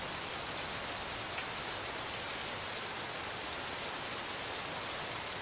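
Steady rain falls in the video game Gemini Rue, a continuous hiss of drops with no breaks or voices.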